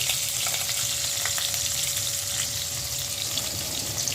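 Green chilies and black cumin seeds sizzle steadily in a little hot oil for a low-oil fish and eggplant curry, a loud, even crackling hiss close to the pan.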